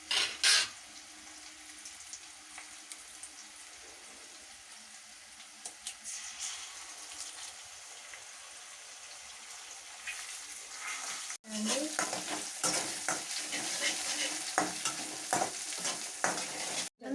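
Egg fried rice with curry leaves stirred in a hot pan, a steady close sizzle with scraping spoon strokes that grow louder and busier in the second half; no talk is heard.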